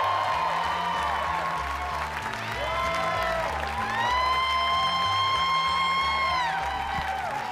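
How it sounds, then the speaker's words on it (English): Comedy club audience breaking into sustained applause and cheering for a stand-up comic, dense clapping with whoops rising and swelling, while a loud musical fanfare plays over it. "Huge round of applause."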